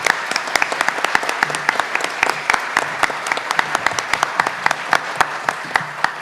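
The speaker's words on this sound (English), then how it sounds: "give them one more round of applause" An audience at a candidates forum applauds the candidates, a steady wash of clapping with distinct sharp claps standing out throughout, fairly near and loud, with no talk over it.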